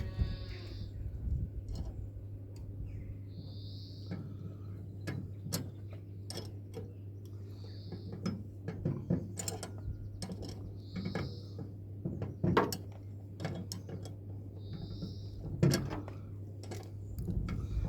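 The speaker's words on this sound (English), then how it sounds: "You probably can hear the noise in the background, and that's the compressor cooling the milk." A milk cooling compressor on an Irish dairy farm hums steadily in the background as a low constant drone, overlaid by irregular ticking and clicking mechanical noises and recurring short higher-pitched chirps.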